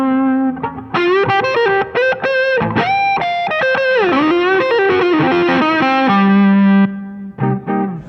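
An electric guitar played through the distortion effect of a Vox Starstream modeling guitar produces overdriven sustained notes and bends, with short pauses and a held final tone.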